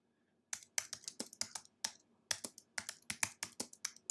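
Text being entered on a computer keyboard for a watermark in photo-editing software: a burst of crisp, close key clicks in an uneven rhythm with a few short pauses, heard alone.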